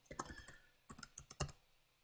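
Typing on a computer keyboard in short irregular bursts of close, crisp key clicks with brief pauses between, no voices.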